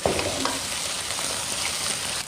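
Sliced lettuce stem is stir-fried in a little oil in a wok. It gives a steady, close, crackling sizzle from start to finish, with no voices.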